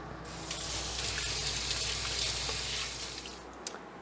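Tuna patties frying in a pan give a steady, fairly loud sizzle and crackle that holds for the whole stretch with no voices, easing off slightly near the end.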